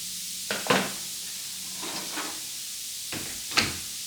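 Oxygen cleaner hisses and fizzes steadily after boiling water is poured over it, a soft continuous sizzle close by, with a few sharp clunks of handled cookware.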